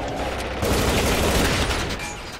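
Rapid overlapping gunfire bursts in the Area 51 Zombies video game mode, a dense sustained fusillade of shots at steady loudness throughout.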